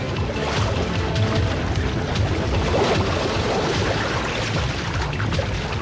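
Water rushes loudly and continuously in an animated cartoon scene, a dense, steady wash of churning flow with no pauses.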